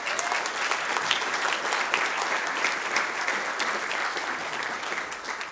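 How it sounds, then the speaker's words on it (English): Steady, dense applause from an audience at a Santa Ana city council meeting, continuous and fairly even throughout, with no voices standing out. "Let's give them a round of applause,"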